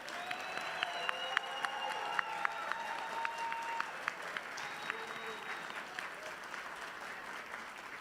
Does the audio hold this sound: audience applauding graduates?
yes